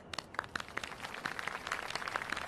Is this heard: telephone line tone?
no